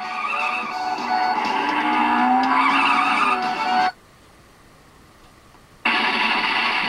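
In the PlayStation game Road Blaster, a car's tires screech loudly in a long rising skid over engine roar. The sound then cuts to near silence for two seconds before the game audio returns.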